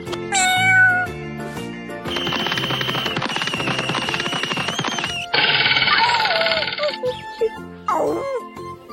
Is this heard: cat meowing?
yes